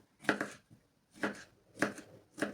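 Cucumber cut lengthwise with a knife for a Korean-style salad with meat, four evenly spaced crisp chops against a board, close and clear with quiet gaps between.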